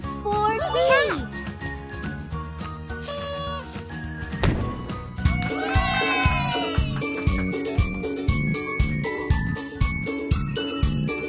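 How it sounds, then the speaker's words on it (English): A cartoon-style cat meows briefly near the start, over bouncy children's phonics music with a steady beat that continues throughout. "C is for cat."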